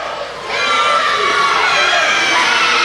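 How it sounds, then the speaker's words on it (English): A wrestling crowd at a CWF Mid-Atlantic show roars against Trevor Lee, a loud, dense swell of shouting and jeering that rises sharply after a brief quieter start and holds steady. "the crowd seems to really hate Trevor Lee for some reason"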